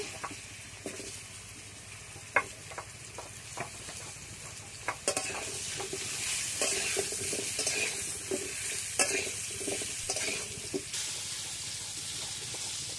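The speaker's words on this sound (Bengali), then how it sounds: "আলুগুলো লাল লাল করে ভেজে নেব।" Potatoes sizzle steadily in hot mustard oil while a spoon scrapes and stirs the pan in scattered knocks, close by, with no talking.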